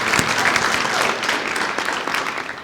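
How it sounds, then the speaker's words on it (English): An audience at a copywriting conference in Nashville applauds, a loud, continuous burst of many hands clapping close by, sustained throughout. "applaud for that"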